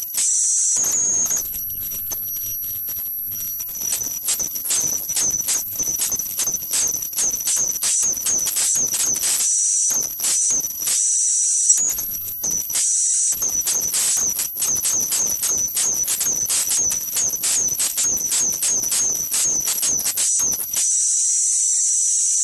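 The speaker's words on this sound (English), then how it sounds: "I'm going to show you some arcs on just 20 volts, and the arcs on 20 volts are quite dramatic" Electrical arcing at 20 volts from a circuit with a blown MOSFET gives harsh, loud crackling bursts over a high-pitched whine, fizzing in rapid irregular clusters with brief gaps, close and continuous for about twenty seconds.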